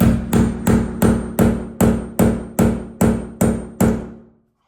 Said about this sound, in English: I think that's where you need the hammer.